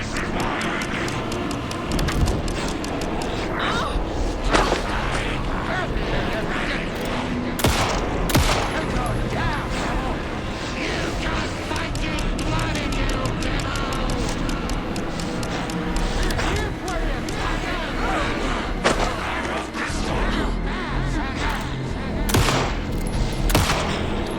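Sustained gunfire from Alan Wake 2 during the ending fight, with dense bursts of automatic shots and sharp single cracks that keep going almost without a break under a loud, busy mix.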